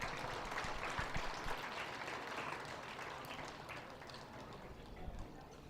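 Applause for junior dairy show exhibitors at a county fair, a steady wash of clapping from a crowd that holds evenly for several seconds at moderate-to-low level.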